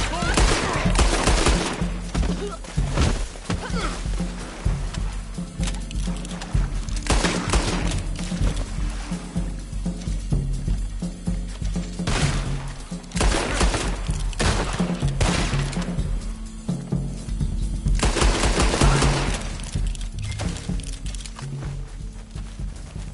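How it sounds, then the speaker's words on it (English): Gunfire in the online Western game Red Dead Online rings out in repeated loud bursts of shots with echoing tails, several volleys spread across the stretch, mixed with occasional game sounds. "I'll riddle you with bullets"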